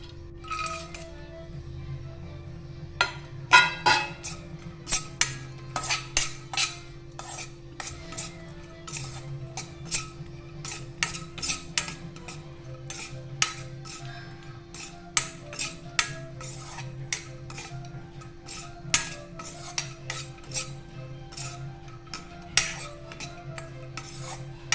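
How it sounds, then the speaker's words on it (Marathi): Dry fruits roasting in a little hot ghee in a pan, heard mainly as frequent sharp metal clinks and taps of a spoon stirring against the vessel over a quiet low hum. "त्यात आपण हे ड्रायफ्रूट थोडेसे भाजून घेऊया."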